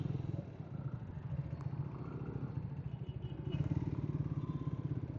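A lightweight motorcycle is ridden at a steady pace, its engine a close, rhythmic, pulsing putter with a slight clatter, holding an even throttle with a small surge near the end.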